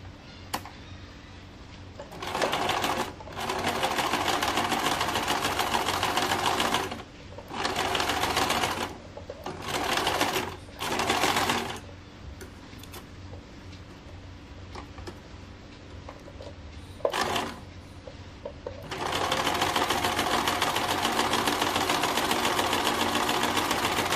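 Sewing machine stitching white cotton fabric for a small doll dress, running in several bursts of steady rapid stitching separated by pauses, with a longer continuous run at the end; no talking.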